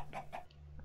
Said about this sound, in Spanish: ¿dónde estás, gallina?